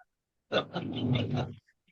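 A dog gives a short, close growling whimper lasting about a second, rough and throaty, between stretches of silence.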